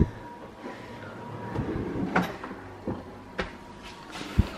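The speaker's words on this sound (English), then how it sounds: "These drawers from Howdens are amazing, really strong, sturdy drawers." A sturdy Howdens drawer in a newly renovated matte black kitchen slides open and shut, with a few soft rolling runs and a sharper thud as it closes. The sounds are fairly close, in a quiet room with no talking.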